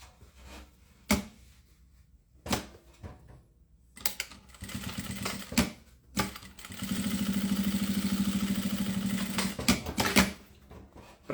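A sewing machine topstitches both sides of a cube-shaped toiletry bag in a few short bursts, then one longer steady run of rapid stitching, close and clear with no talk.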